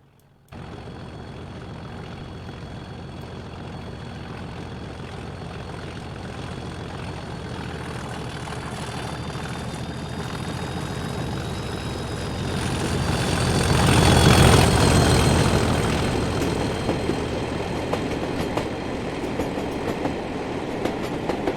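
A Class 37 diesel locomotive in Train Simulator 2020 passes by: a steady rumbling engine drone with rail noise swells to a loud peak midway, with a faint high whine, then eases slightly as it recedes.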